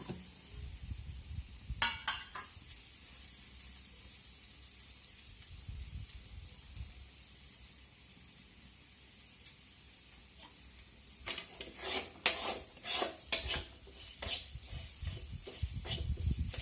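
Garlic, green chilli and roasted peanuts sautéing in a pan, a low sizzle with occasional clinks, then a burst of rapid spoon scraping and stirring near the end, with no speech.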